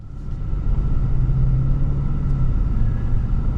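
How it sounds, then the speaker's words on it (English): A 2021 Genesis G90 Ultimate AWD luxury sedan cruises down the road, heard from inside as a steady low engine and road rumble with a faint constant hum and no voices. "we're heading on down the road in this 2021 Genesis G90 Ultimate all-wheel drive"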